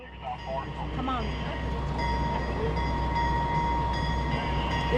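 Alco diesel locomotives approach on the Arkansas & Missouri Railroad, a steady low rumble and rail noise building beneath distant voices, with faint squeal-like tones layered over the continuous train sound.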